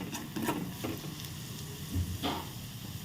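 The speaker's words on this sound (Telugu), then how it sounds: "క్యారెట్ వేసేస్తున్నాను క్యారెట్ కలిపేయడమే వెంటనే" Carrots are stirred into a cabbage stir-fry in a pan, producing a soft, quiet sizzle with intermittent scraping strokes of the spoon and no talking.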